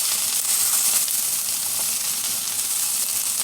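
Mushrooms and small diced vegetables frying in a hot pan for a vegan butter chicken, giving a loud continuous hiss and sizzle with faint stirring scrapes and no speech.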